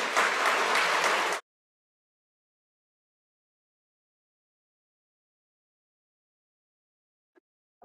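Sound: audience applause at a ceremony

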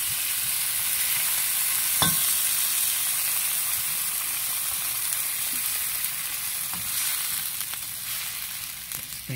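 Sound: squid simmering in a pan with Sprite

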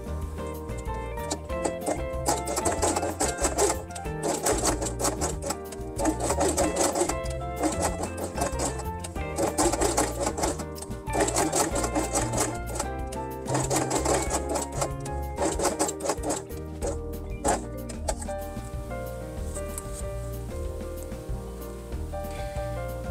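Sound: sewing felt pieces along the edge

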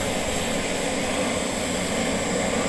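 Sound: burner flame roaring

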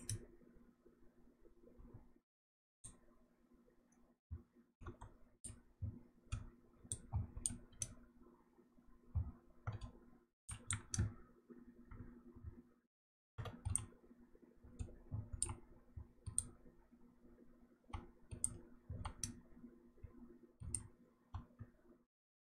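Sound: computer keyboard and mouse clicking

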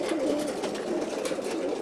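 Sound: racing pigeons cooing before release

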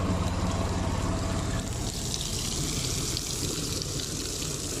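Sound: Bordeaux mixture being mixed and poured into tractor sprayer

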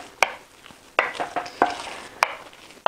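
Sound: stirring cassava water fufu in a pot

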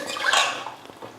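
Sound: water being added to cooking pot

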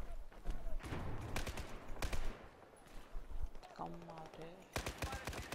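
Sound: hip-fire gunshots in the video game Battlefield 4

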